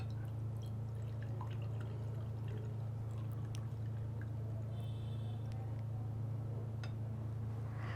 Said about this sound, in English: First we take a clean beaker and add water.